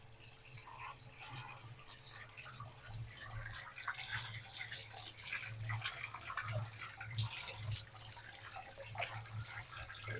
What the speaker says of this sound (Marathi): हात धुवून घेते.